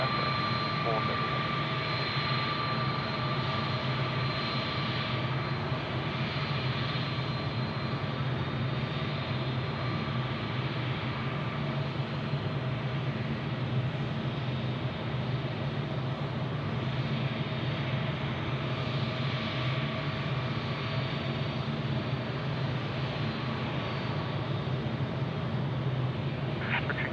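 Jet aircraft taking off at night at Sydney Airport, a steady broad distant engine roar holding constant throughout, with faint radio voices from air traffic control underneath.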